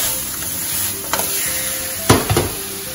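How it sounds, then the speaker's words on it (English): Tomatoes fire roasting in a hot skillet with a steady, close sizzle and a couple of brief stirring scrapes and clinks, no talk. "fire roasting tomatoes over a hot skillet"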